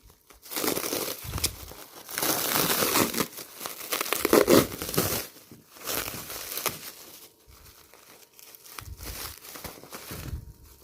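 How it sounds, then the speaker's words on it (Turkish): Plastic cling film is unwrapped nearby in bursts of crinkling and tearing, with short pauses and a louder crackle in the middle. "Şimdi açıyorum streç filmi."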